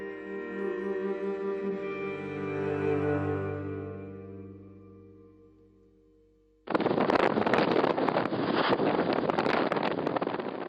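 Strong gusty wind roars into the microphone during a bushfire wind change in Gippsland, southeast Victoria, arriving abruptly as a loud, buffeting rush after a fading tonal hum.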